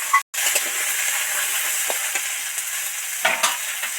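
Vegetables fry in hot oil with panch phoron for a spinach ghonto, a steady close hiss of sizzling broken by a few soft scrapes and knocks of stirring in the pan.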